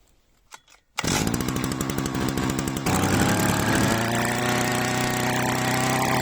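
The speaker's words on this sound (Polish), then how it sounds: "uruchamiamy kosę i pozwalamy jej pracować do momentu, aż całe paliwo się skończy" A small two-stroke petrol brush cutter engine snaps to life after a couple of pull sounds, then buzzes loudly and steadily at high revs, close by.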